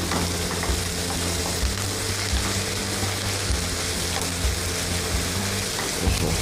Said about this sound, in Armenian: Սունկն էլ տապակում ենք այնքան, ինչև հյութը դուրս գցի, գոլոշիանա և սկսի սունկը տապակվել։